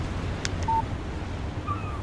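Short electronic phone text-message chime from the video game Alan Wake, a brief tonal beep or two over a dim outdoor wind and water ambience.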